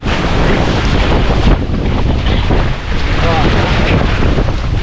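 Choppy lake water near Interlaken, Switzerland, sloshes and splashes around swimmers under heavy wind buffeting on the microphone, a loud continuous wash of noise close by.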